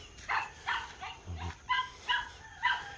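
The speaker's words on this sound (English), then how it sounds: "That's Chico, my first dog when I came back in the Philippines" A dog gives a series of about six barks or yips at an even pace, moderately close, with a short low grunt partway through.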